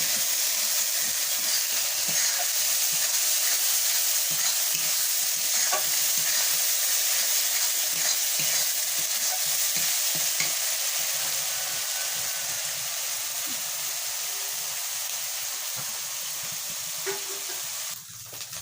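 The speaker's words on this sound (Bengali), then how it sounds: "লাল করে ভালো করে কষাই করে নেব এটা মশলাটা" Spice masala with a little ground coriander fries in a pan, a steady bright hiss and sizzle with frequent stirring scrapes, tapering slightly toward the end.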